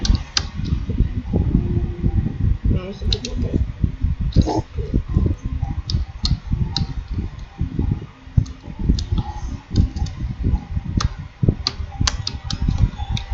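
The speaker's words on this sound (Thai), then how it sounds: "คนอาจจะเห็นผมพิมพ์ช้านะฮะ" Rapid, irregular clicking of computer keyboard keys, close and steady throughout, with occasional low voice sounds in the background.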